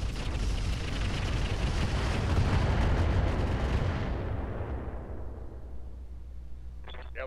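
A volley of LRM missiles launches in the BattleTech game Roguetech as a dense, roaring, rumbling barrage that stays loud for several seconds, then fades into a low hum.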